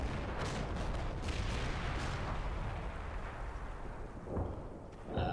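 Mortar fire in the Combat Mission war game: a steady rumbling barrage of distant thuds and crumps with sharper bursts near the start, and a louder impact toward the end.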